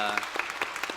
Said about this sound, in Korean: 우리 영광의 박수 하나님께 올립니다.